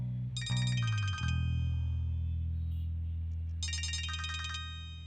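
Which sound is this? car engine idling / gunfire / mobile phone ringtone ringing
mobile phone ringtone ringing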